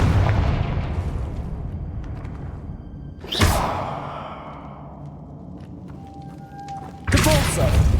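Confringo fire spell bursting in Hogwarts Legacy: two loud, sharp blasts several seconds apart, each trailing off into a fading rumble over a steady background of game ambience.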